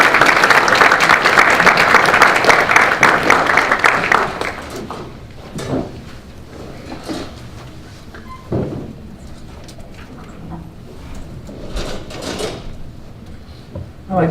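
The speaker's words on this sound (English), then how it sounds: "would you please give me a warm round of applause for Dr." Audience applause welcoming Dr. Christopher Lehman to the podium at a conference, a loud, dense burst of clapping for about four seconds that quickly dies away into quiet room noise with scattered faint knocks and shuffles.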